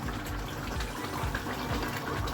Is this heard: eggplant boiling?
yes